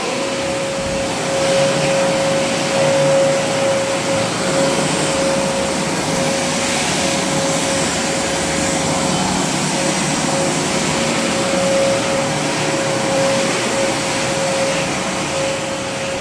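A vacuum cleaner runs steadily throughout, a loud continuous whine with a fixed tone and roaring airflow, close by and uninterrupted.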